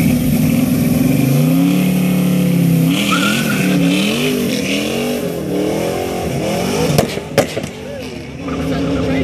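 A 1967 Ford Mustang engine revs hard and loud while a tire spins and squeals against the surface, the engine note rising and falling in sweeps before a few sharp bursts near the end.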